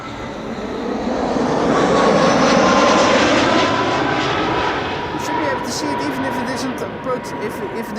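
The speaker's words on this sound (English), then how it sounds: "This was Air France flight 1740, having arrived from Paris" An Air France jet airliner flies over at Amsterdam Schiphol Airport, its loud engine roar building and then slowly fading, with a voice briefly heard near the end.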